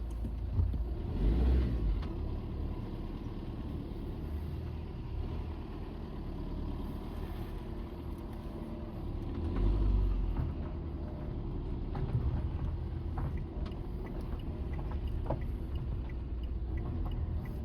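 A car engine idling steadily and close for about eighteen seconds, a low continuous rumble with a couple of brief swells, no voices.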